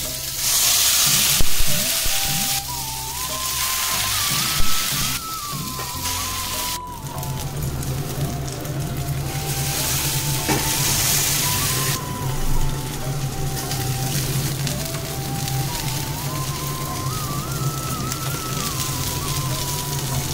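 Food sizzles and crackles in oil on a tawa griddle, a steady frying hiss running throughout with occasional stirring scrapes, and background music plays underneath.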